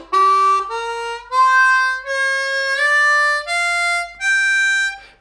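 A blues scale played on a blues harmonica, seven separate sustained notes climbing step by step, some reached by bends, each clear and close with short gaps between them.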